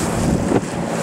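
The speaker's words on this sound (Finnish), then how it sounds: "Aikamoinen tuiverrus täällä." Strong gusty wind batters the microphone aboard a boat on open water, a loud, continuous rushing roar with a slight surge midway, and no voices.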